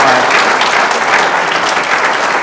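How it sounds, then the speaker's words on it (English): An audience at a panel discussion on artificial intelligence gives steady, dense applause for the speakers, a loud continuous wash of clapping throughout. "Let's give them a round of applause, please"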